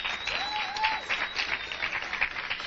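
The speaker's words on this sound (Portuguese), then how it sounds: "dar um aplauso ao Senhor Jesus" Applause for Jesus from a church congregation, a steady wash of clapping that carries at an even level for a few seconds, with no voices standing out.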